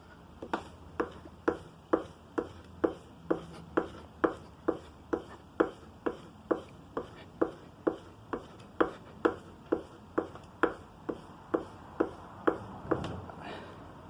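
A plane blade's bevel is worked hard across a sharpening stone in steady back-and-forth strokes, roughly thirty evenly spaced scrapes landing about twice a second, close and clear.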